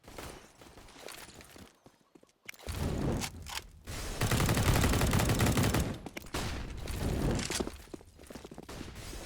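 Sustained bursts of rapid Mac 10 submachine gun fire in a professional Counter-Strike esports match, loud and dense, broken by a brief near-silent gap and a few shorter volleys, with faint scattered footsteps between bursts.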